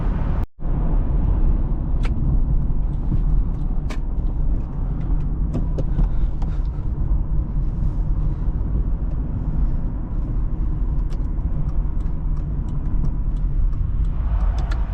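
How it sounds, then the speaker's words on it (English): A 2003 Acura TL 3.2 cruising on a highway, its engine and tire roar a steady, loud, continuous drone with wind noise, briefly interrupted by a sharp knock near the start. "let's take it to the freeway, do some highway driving, and wrap up this test drive"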